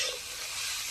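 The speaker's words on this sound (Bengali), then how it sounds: "এবার সবজিগুলো নাড়াচাড়া করে একটু ভাজবো।" Cabbage and capsicum being stirred and fried in a pan for cauliflower chowmein, a brief continuous sizzle with scraping stirring up close, no talking.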